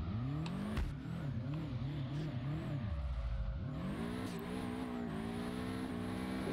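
A boxer-engined car in the drifting video game Drift21, with rapid rhythmic revving, a brief lull and then a sustained climbing engine note, joined by tire squeal and skidding. The sound is loud and close, with no voices.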